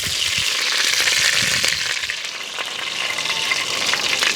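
Curry leaves and fenugreek seeds fry in hot oil for a fish curry, giving a loud, steady crackling sizzle with scattered sharp pops from start to finish.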